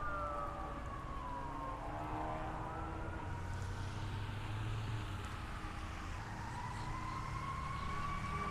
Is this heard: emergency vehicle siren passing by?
yes